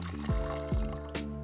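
Hot water poured into a pressure cooker for steaming fish, a close, loud gurgling pour with a couple of rising glugs as the level builds.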